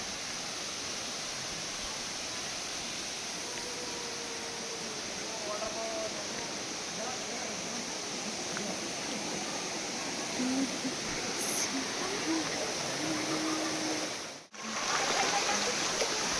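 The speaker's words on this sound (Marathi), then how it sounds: "रस्त्यावरून पण हा परशुरामवाडीचा धबधबा दिसतो." Steady broadband rush of the Parshuramwadi waterfall near Devrukh during a low-water spell, a continuous roar heard from nearby with faint voices in the background and a brief dropout near the end.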